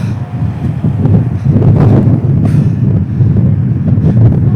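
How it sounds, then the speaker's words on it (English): Loud, constant wind buffeting the microphone at a Southwark roundabout, with deep rumbling gusts, continuous throughout with no voices. "A lot more windy here than I thought."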